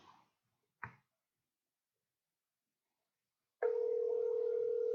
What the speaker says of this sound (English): It's ringing, Linda.